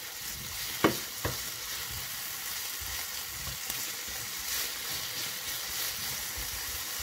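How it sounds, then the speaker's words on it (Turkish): Chicken pieces and oyster mushrooms frying in a pan, a steady sizzle throughout with a couple of sharp clinks and scrapes of stirring near the start, close and moderately loud. "Şöyle birazcık karıştırıyoruz."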